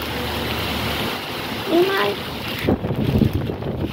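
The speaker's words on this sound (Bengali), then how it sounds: "দেখেন কিভাবে বাতাস বৃষ্টি হচ্ছে।" Strong cyclone wind roars and buffets the microphone while rain patters, and a person speaks briefly over the gusty, noisy weather.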